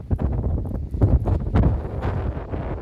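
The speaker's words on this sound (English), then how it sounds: "It's a little windy right now." Strong wind buffets the microphone in heavy, uneven gusts at a mountain overlook near Gatlinburg, a low rumbling roar with no voices.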